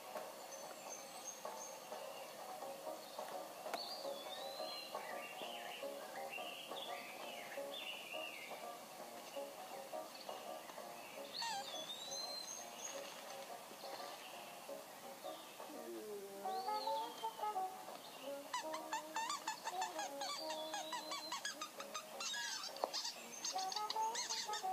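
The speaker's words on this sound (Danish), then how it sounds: "her får jeg en lille klip af fugle" Birds chirp and call softly in the background, with varied twittering and honk-like calls growing busier toward the end, fairly distant and faint throughout.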